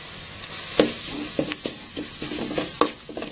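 Ingredients for a sour curry with climbing wattle and mackerel are stirred as they dry-roast in a pan, with close scraping strokes and light crackling bursts at an irregular rhythm.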